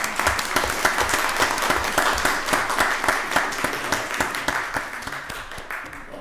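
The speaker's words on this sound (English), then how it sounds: "Let's give him another round of applause." An audience at a Rockdale County Board of Commissioners meeting gives a round of applause, a dense, steady burst of many hands clapping that holds at an even level throughout.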